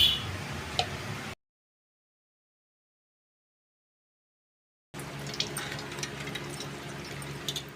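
Eggs being washed in water, with soft close sloshing and light taps at the start, a stretch of silence, then renewed quiet splashing and handling under a faint steady hum.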